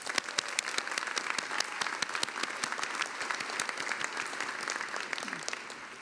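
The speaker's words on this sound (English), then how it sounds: "One more round of applause for our amazing student marshals." Audience applause fills Royce Hall during a UCLA doctoral hooding ceremony, a steady wash of many hands clapping with sharp individual claps standing out, sustained and fairly distant.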